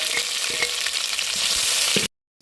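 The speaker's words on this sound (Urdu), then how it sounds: "ابھی گھی میں پیاز ڈالیں گے اور اس کو فرائی کریں گے بالکل اس طرح سے۔" Sliced onions fry in hot ghee with a loud, dense sizzle and light stirring clicks, steady and close for two seconds before cutting abruptly to silence.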